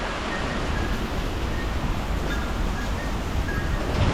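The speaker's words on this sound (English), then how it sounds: "you can hear the deep bass from the wind coming from far. Pretty eerie sounding." Category 4 Hurricane Francine wind, a loud continuous roar with a deep rumbling bass underneath, steady and unbroken throughout.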